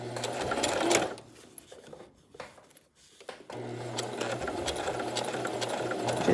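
A sewing machine stitches a centered zipper, running loud and close in two bursts of rapid mechanical whirring with a short pause between them.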